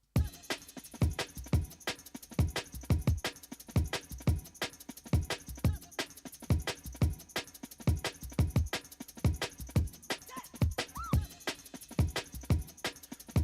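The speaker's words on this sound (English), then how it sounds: "solo the drums group so we can hear what the drums sound like with that crash" A drum group played solo with an 18-inch crash cymbal, a steady loop of punchy kicks and snares with bright cymbal wash on top, loud and even throughout with no voices.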